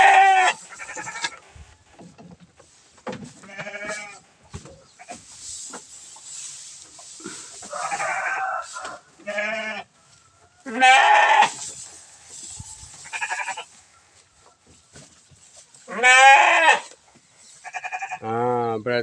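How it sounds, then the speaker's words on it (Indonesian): Sheep being fed rice straw bleat repeatedly in loud, wavering cries, with quieter rustling and gaps between calls. "Ini dombanya."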